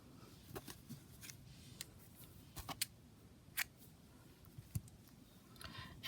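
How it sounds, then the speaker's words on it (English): Scissors snip through crochet yarn for a pink baby dress, a few quiet, sharp clicking cuts spread irregularly across a soft background. "And now I'm going to cut my yarn."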